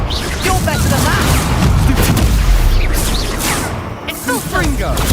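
Confringo blasting spells explode in a Hogwarts Legacy duel as repeated booms and crackling bursts pile over a dense, loud combat din, with raised voices cutting through.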